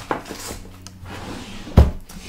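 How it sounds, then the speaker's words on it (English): A wooden drawer for watercolour paper slides open in a home art studio, with a soft rubbing scrape followed by a single sharp knock as it stops, close and clear. "Next this is my watercolour paper drawer."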